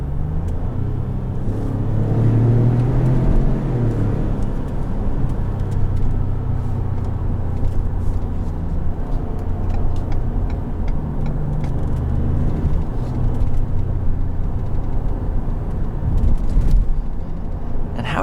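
A 2020 Ford Expedition Max SUV driving, heard from inside the cabin: a steady low engine and road rumble holds throughout, with a brief swell near the start.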